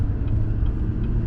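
A GMC Yukon Denali in limp mode drives up a driveway, its engine giving a steady, close, low rumble with no voices.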